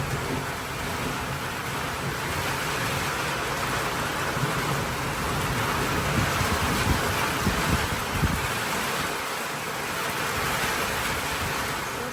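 Steady rain falls and patters continuously on surfaces, with low rumbles beneath like distant thunder; no voices.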